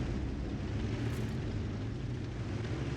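A low, rumbling blast from an artillery shell landing in World of Tanks, a broad muffled roar that swells and lingers faintly at a distance.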